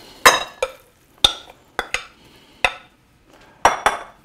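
Meat, a vegetable mix and oats being combined in a large bowl, heard as a series of close, sharp knocks and scrapes against the bowl at irregular intervals with quiet gaps between them.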